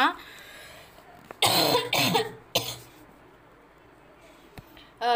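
Several harsh coughs in a short burst, loud and close, with another cough following after a brief pause and quiet room tone in between.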